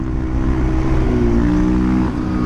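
A motorcycle runs at speed with a steady, close engine drone and wind noise, the pitch wavering slightly as the throttle shifts.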